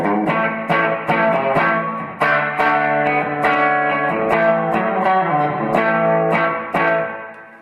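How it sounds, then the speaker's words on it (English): Guitar played through a TC Electronic Hall of Fame reverb pedal on its tile setting, a small tiled bathroom-like room: strummed chords with a short bright reflective tail, an effected tone, alone and fairly loud. "the tile simulates a very small room with tiles,"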